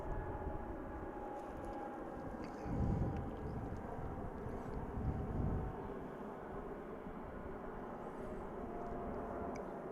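A Boeing 777 airliner departs from DFW International Airport, its jet engines a steady broad distant roar with a few swells, heard alone without talk.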